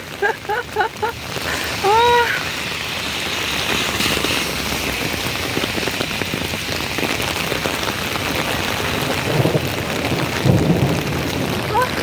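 Heavy autumn rain pours steadily while thunder rumbles and rolls, with a few faint chirps early on and a voice speaking briefly.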